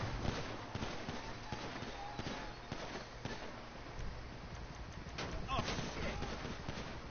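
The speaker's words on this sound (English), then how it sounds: "Okay, who are they shooting at this time?" Gunfire from GTA Online, with players shooting at the military: dense, continuous bursts of shots and booming blasts over a low rumble, with a voice talking now and then.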